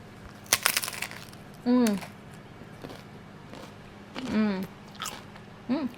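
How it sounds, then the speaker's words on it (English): Several sharp, crisp crunches from biting into a chicken salad, close up, with short voiced exclamations between the bites. "Listen to this crunch, listen."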